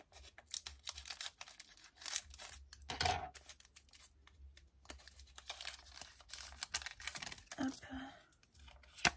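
Scissors snip through a Pokémon booster pack foil, brief sharp cuts and crinkling rustles at close range, with a family chatting in French around the crackle of the pack.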